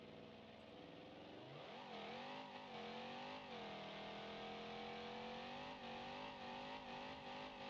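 A 454 D-Series engine in BeamNG.Drive, tuned to about 2100 horsepower with shortened quarter-mile gearing, revs up hard and then holds a loud, steady, buzzing drone with slight pitch wavers.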